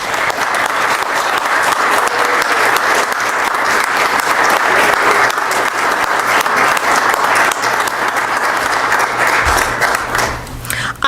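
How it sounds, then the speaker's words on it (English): Sustained, loud applause from a large crowd fills the room without pause, thinning slightly near the end. "I think they deserve some applause."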